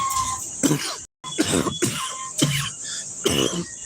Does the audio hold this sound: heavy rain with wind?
no